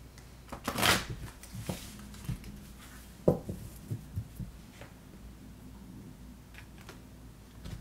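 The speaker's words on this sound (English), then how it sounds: "And the card that I pull for you, Pisces, is Sisterhood." Tarot cards being shuffled by hand, a soft riffling burst near the start followed by scattered light card taps and slides, close and fairly quiet with no talking.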